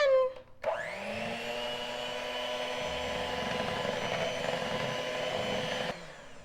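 An electric mixer whirs steadily through pumpkin bread batter, starting after a brief clatter and running at an even, close-up drone before cutting off near the end.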